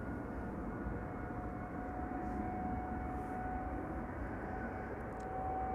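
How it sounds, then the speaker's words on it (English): Jet engines of a KLM Boeing 787-10 Dreamliner spooling up for departure at Amsterdam Schiphol, a steady, distant, broad roar with a faint whine and no voices. "KLM flight 623 spooling up."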